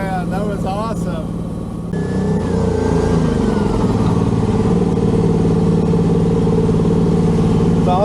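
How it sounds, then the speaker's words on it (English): A 2024 Can-Am Maverick R turbo side-by-side idles and revs up close with loud, steady engine roar and rising turbo whine, while people talk over it at the start. "You can really hear that turbo."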